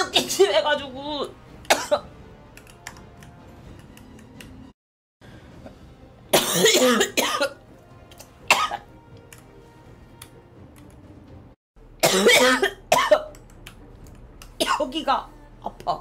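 A girl coughs repeatedly in several separate bursts, some loud and rough and others short. Talking and quieter pauses fill the gaps between the coughing fits.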